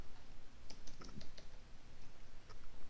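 Computer keys tapped in short bursts of crisp clicks during office tax-software training, fairly close and moderately quiet, with no voices.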